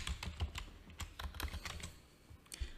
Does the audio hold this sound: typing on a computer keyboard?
yes